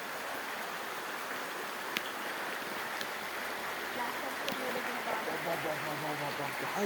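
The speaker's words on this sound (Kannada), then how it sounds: "ಮಧ್ಯ ರಸ್ತೆಯಲ್ಲಿ ಈ ಥರ ಹಳ್ಳ ಹರಿತಾ ಇದೆ." Rainwater rushes down the middle of a residential road with no drains in Chikmagalur, a steady broad wash of flowing water, close and continuous, with faint clicks and a low rumble underneath.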